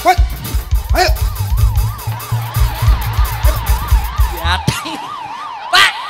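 An ambulance siren wails loudly and close by in a village in Pakel, Tulungagung, its rising and falling tone repeating steadily over a low vehicle engine rumble, then cutting off near the end.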